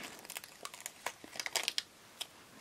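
A TGI Friday sticker crinkles and rustles as it is peeled and pressed onto an Erin Condren planner page, in soft close crackles and small taps, quiet, with no talking.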